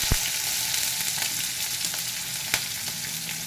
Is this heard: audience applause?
no